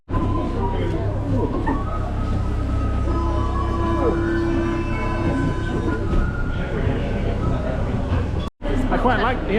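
Interior of a moving Paris train, a constant loud rumble with wheel noise and a faint squealing tone, running steadily with a brief dropout near the end.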